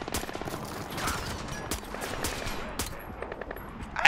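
Rapid bursts of automatic gunfire from a heavy-recoil weapon in Splinter Cell Blacklist, a dense, continuous stream of shots filling the whole stretch with a louder burst at the end.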